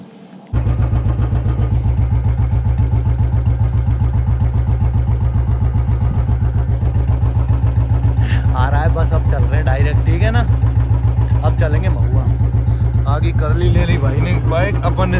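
A motorbike riding along a road, its engine giving a steady, loud droning hum for the whole ride, with voices talking over it during the second half.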